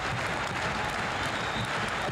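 A packed 1984 wrestling arena crowd roars and claps, a brief, steady wash of cheering without a clear break.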